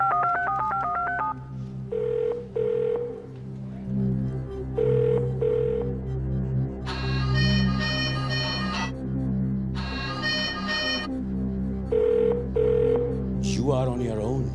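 A telephone call to a friend on a quiz show: a string of keypad dialing tones, then repeated electronic ring bursts with pauses between, loud and near over a low studio hum.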